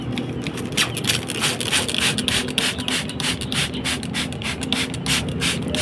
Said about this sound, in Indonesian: Nah, ini setelah pangkas saya semprot.